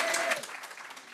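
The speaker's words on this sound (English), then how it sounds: "so another round of applause for them" Brief burst of audience clapping at a UX meetup, loudest at the start and tapering slightly, many hands blending into a dense patter.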